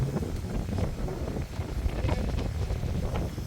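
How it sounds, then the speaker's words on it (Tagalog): Strong, steady wind roars and buffets the microphone at a house under construction in Daklapan, a constant low rumble with gusty rustling and no voices. "Ganito kalakas ang hangin dito sa Daklapan."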